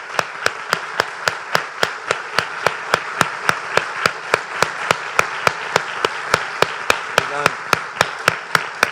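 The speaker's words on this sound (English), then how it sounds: "let's give them a round of applause" Slow, evenly spaced single claps repeat about twice a second, sharp and distinct over a quiet room tone, from an audience at a housing supply summit.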